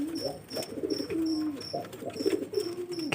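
Pigeons cooing close by in a loft: soft, repeated throaty coos that rise and fall, overlapping each other, with faint rustling between them.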